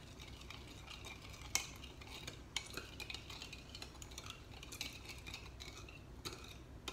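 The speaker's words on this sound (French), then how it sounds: "donc là je mélange" A utensil stirring shrimp and eggplant in sweet and sour sauce in a pan, with soft scraping and occasional light clinks of metal against the pan, quiet and close.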